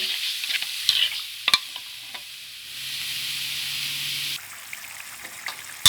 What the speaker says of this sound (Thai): แล้วก็ผัดทุกอย่างให้เข้ากัน